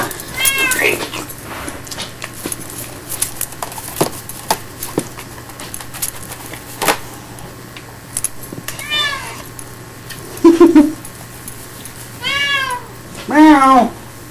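A cat meows several times in quick bursts, loud and close, between quieter stretches of rustling and light clinking.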